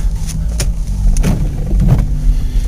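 Front-wheel-drive car driving through snow during a storm, a close, rumbling engine and tire drone with a few brief thumps and scuffs as the wheels skid.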